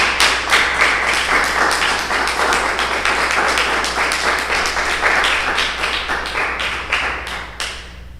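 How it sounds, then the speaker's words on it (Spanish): A church congregation applauding during a sermon, with loud clapping that carries a distinct rhythmic, beat-like pulse throughout, steady and close, with a low hum underneath, tapering off at the end. "Denle el aplauso al bendito sea."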